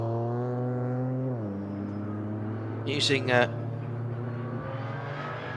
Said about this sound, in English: The unmistakable rumble of the V8 twin turbo.